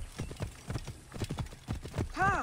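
Rapid galloping horse hooves pound through a race in Assassin's Creed Origins, a steady drumming clatter close by, with a horse's whinny rising near the end.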